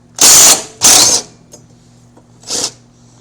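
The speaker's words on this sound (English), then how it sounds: "So I'm just going to use my impact wrench, cordless, and take it off." A cordless impact wrench on reverse removes the blade from a push mower, giving two loud, close ratcheting bursts, a brief tap, then a third shorter burst, with no talk.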